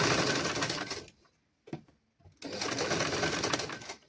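A sewing machine stitches a child's garment in two loud, rapid runs separated by a brief pause, heard close up with no talking.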